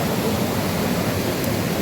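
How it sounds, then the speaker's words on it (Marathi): Devkund waterfall near Bhira during heavy rain, heard as a dense, even roar of falling water that fills the whole short moment. "फायनली आम्ही नळकुंडच्या धबधब्यापाशी आलेलो आहे."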